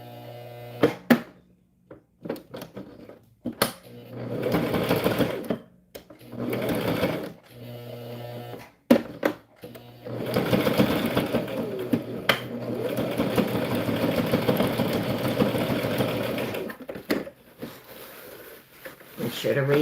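A sewing machine stitches organza ribbon trim onto a tutu, running in short start-stop bursts before a longer steady whirring run, close and moderately loud with brief pauses between passes.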